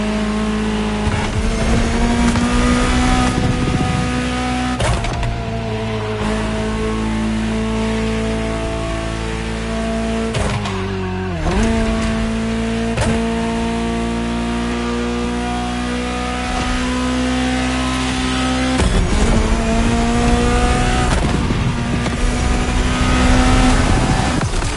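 A Ferrari supercar engine in the video game The Crew, a loud, sustained roar that climbs and falls through gear changes, revving up again several times, with no talking.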